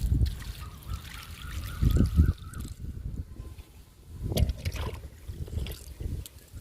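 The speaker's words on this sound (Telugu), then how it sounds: "వాటర్ ఇచ్చేద్దాము మొక్కలకి" Water poured onto freshly planted plants, likely tulsi and lavender, in a home garden, a soft trickling splash in uneven bursts, close by and moderately quiet with no talk.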